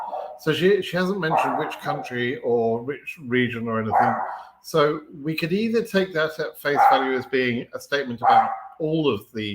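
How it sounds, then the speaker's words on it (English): A nervous pet dog barks indoors during a home livestream, short yaps buried under steady, continuous talking. "Sorry about my dog; she's a bit nervous for some reason."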